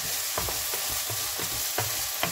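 Oyster mushrooms stir-fried in a pan with a heat source just switched off, a steady sizzle broken by several scraping spatula strokes at a fairly even rhythm, close and with no talking.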